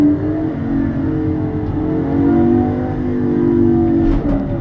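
A racing simulator game renders a car driving the Mandalika circuit at an unhurried pace, giving a steady mid-pitched engine drone that swells and eases slightly with no talk over it.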